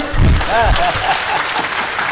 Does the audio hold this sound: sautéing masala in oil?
no